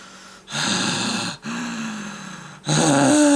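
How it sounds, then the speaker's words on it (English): Heavy breathing through the mouth behind a face mask, three loud breathy exhales and inhales separated by brief pauses, close to the microphone, with no speech. "I do a lot of breathing through my mouth anyway."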